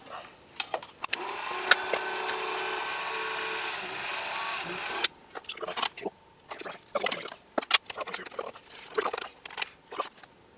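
A Dremel rotary tool cuts into a plastic model base for a Revell USS Voyager kit, producing a steady high-pitched whine and grinding for several seconds before it stops, followed by scattered handling clicks and taps.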